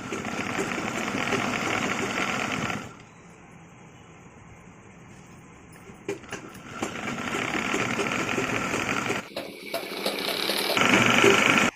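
A sewing machine stitches a zipper handbag in steady, close mechanical runs. It drops to a quieter lull around the third second, stops briefly near the ninth, then resumes louder.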